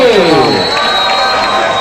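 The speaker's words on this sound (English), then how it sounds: "let's have a round of applause for the challenger, Marco Pique" Crowd noise at a Muay Thai fight swells loud and dense, with cheering and shouting from a large audience. No clear separate claps stand out across the short stretch.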